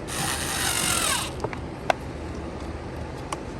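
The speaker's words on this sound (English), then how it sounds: "Number one setting on the drill, nice and slow." A power drill whirs briefly at low speed, then stops, followed by a few sharp clicks and taps nearby.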